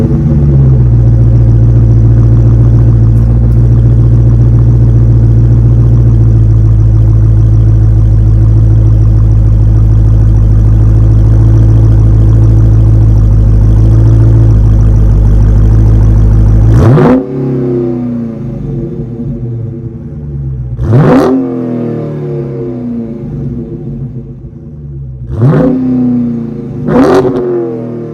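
A 2023 Dodge Challenger Scat Pack 1320's 6.4-liter Hemi V8 idles with a loud, deep, steady rumble, then cuts out and is followed by several sharp revs rising and falling.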